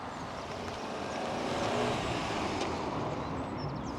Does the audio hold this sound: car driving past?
yes